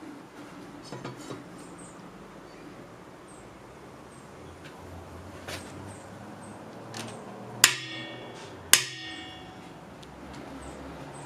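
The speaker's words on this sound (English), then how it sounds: "Couldn't find my big centre punch, so I've had to use the small one." A small centre punch struck with a hammer to mark a hole, two sharp metallic clangs about a second apart, ringing briefly over faint background noise and a few lighter taps.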